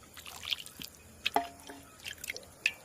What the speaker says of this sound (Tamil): நான் அள்ளி ஊத்துறேன்.